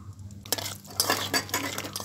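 Whole spices, bay leaf, dried red chilli and cumin seeds, dropped into hot oil in a pan for tempering: a faint sizzle with clinks and scrapes of a spoon against the pan, several bursts over a low hum.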